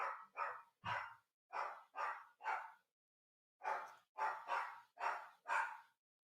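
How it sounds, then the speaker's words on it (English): A dog barks outdoors in a string of about eleven sharp barks in two bursts separated by a short pause, fairly close and loud with no talking over them. "The dog out here barking, man."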